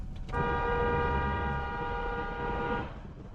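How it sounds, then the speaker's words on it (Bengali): A car horn sounds on a road in Bangladesh as another vehicle pulls out ahead: one long, steady, loud blast held for about two and a half seconds over a low rumble of traffic. "ওই আমার সামনে একটা গাড়ি চলে আসছিল, যার কারণে আমার হর্ন দেওয়া লাগলো।"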